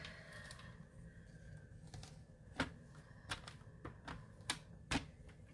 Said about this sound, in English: let's bring that paper trimmer back